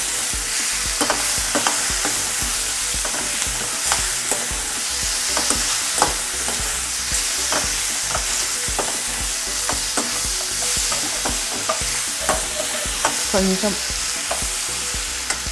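Prawns and egg fry in a pan while being stirred: a loud, continuous sizzle broken by repeated scraping strokes of the spoon, close up, with a brief word spoken.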